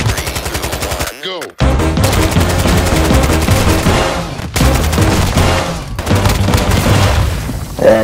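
Loud, close automatic gunfire from a Kastov rifle in a video game crackles in long rapid bursts with one brief pause, while players talk over it.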